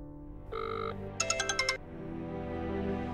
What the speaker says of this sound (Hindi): अनिका को फोन करते हैं फिर से।